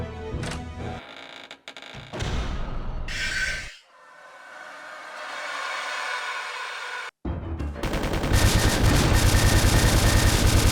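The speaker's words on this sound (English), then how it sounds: "after shooting him with the machine guns a bunch" Machine gun fire in the arcade game Resident Evil Survivor 2 – Code: Veronica, sustained rattling bursts broken by short gaps and a brief swoosh, growing denser and louder toward the end, with no voices.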